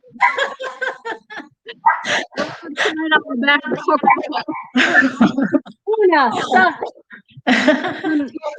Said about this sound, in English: That's my girl dog, and she seems to be very jealous of my other animals.